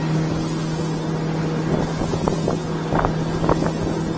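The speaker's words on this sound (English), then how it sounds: "Now right here I start trimming the motor up." Steady drone of a Yamaha-style F70 outboard motor pushing a 2023 Fischer Pro 1550 fishing boat at speed while it trims up, with wind buffeting and water hiss over a constant engine hum and no talking.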